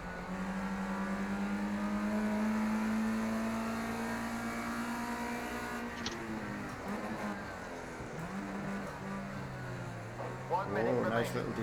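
Formula 1 single-seater race car engine in the racing video game Project Cars 2, a steady high-pitched drone that climbs and shifts in pitch while a voice talks over it.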